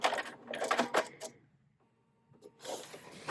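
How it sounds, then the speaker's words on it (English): A sewing machine stitches a quilt block seam in rapid mechanical bursts, pauses for about a second, then runs again. "I'm going to come back here because I noticed I didn't catch the bottom of this seam the first time"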